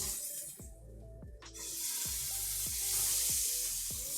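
Duck breast (magret) sizzles steadily in a hot pan, a close, dense frying hiss with rhythmic clanks of a utensil stirring or pressing, no speech.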